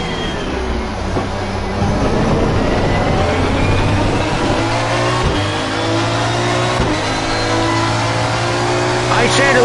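Race cars in Assetto Corsa Competizione roar past continuously with a steady engine drone and whooshing pass-bys, loud and close, with a voice talking over the noise.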